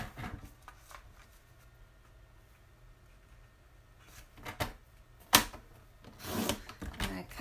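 Paper for a one-sheet craft project being trimmed with a paper trimmer, a few soft slides and sharp clicks, with one louder snap and a closing burst of rustling near the end, close and fairly quiet.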